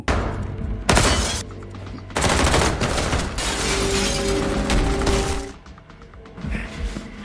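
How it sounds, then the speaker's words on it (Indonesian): Loud bursts of gunfire erupt in several volleys, mixed with shattering impacts and heavy thuds, then fade to quieter rumbling. "Tembakan kembali terjadi."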